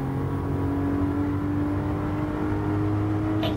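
Engine of a modified Toyota or Subaru with close to 400 horsepower revving steadily while lapping a track in Gran Turismo 7, a sustained droning whine holding nearly constant pitch, close and loud throughout.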